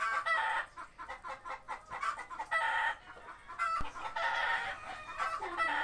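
Chickens kept in a backyard coop cluck in short repeated bursts with gaps between, close and fairly clear over a quiet background, with no one talking.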